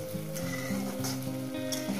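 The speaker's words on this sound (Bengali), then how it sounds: "বাকি মশলাটা কষিয়ে নেব।" Spice masala for a spicy Bengali egg curry sizzles steadily in a hot pan, a close, continuous frying hiss with faint stirring and scraping noises throughout.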